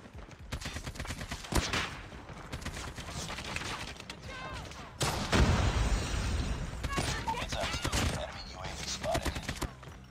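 Rapid AK-47 bursts in Call of Duty Mobile crackle in several volleys, some close and loud with a booming hit midway, while a voice talks over parts of the firing.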